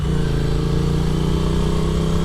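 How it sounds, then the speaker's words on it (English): A Triumph Street Twin motorcycle on its stock exhaust rumbles close and loud with a steady, deep idle-like burble, running alone without talk. "You get a beautiful sounding stock exhaust, which you could always upgrade later."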